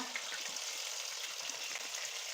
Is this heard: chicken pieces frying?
yes